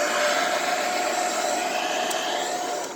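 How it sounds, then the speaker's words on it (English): A hair dryer running on low heat to dry poured paint cells on a wooden flower, producing a steady, even whoosh with a faint whine that holds constant before easing off briefly at the end. "I'm putting my heat on low on my hairdryer"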